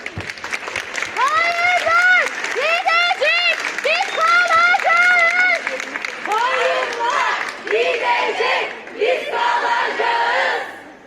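A crowd at a Women's Day rally in İzmir applauds and chants together, loud and sustained, rhythmic group shouts riding over clapping throughout.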